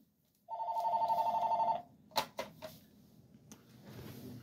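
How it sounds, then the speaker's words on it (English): A telephone rings with a steady electronic trill that lasts just over a second, followed by a few clicks and handling sounds and a low background hum. "Why is my phone ringing?"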